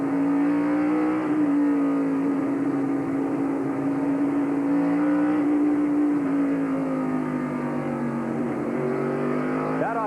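An onboard 1997 NASCAR Craftsman Truck Series race truck engine holds a steady, loud, droning note through a lap, pitch rising and falling gently as the throttle eases through corners, with little talk above the roar.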